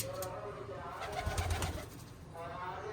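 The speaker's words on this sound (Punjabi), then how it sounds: "ਉਹ ਕਬੂਤਰੀ ਬੈਠੀ ਆ ਅੰਡਿਆਂ ਤੇ" A female pigeon sitting on her eggs coos softly and low, fairly faint, over a hushed background hiss.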